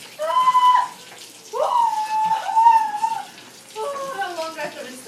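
Water runs steadily from a tap as seven lobsters are rinsed clean for a home meal, a continuous hiss beneath several voices talking close by.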